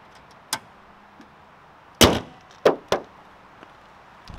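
A car hood is slammed shut with a loud metallic bang, followed by two more sharp clanks and a faint earlier knock, all close by with no talk.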